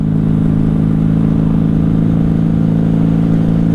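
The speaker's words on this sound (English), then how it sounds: "I think that was a Honda Goldwing trike." A Honda Goldwing trike passes close by, its steady mid-pitched engine drone loud and continuous throughout, with no talking.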